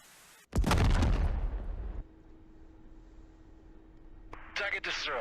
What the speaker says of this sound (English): Launch the missile using right control plus space and keep the sight on the target all the way the missile runs.